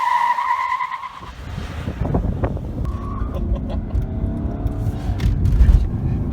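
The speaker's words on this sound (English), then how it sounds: "I bet you never expected a Mercedes diesel to break the tires loose" Tires of a Mercedes with an inline-six turbo diesel screech and break loose under the engine's loud roar, with a squeal at first and then heavy revving close by.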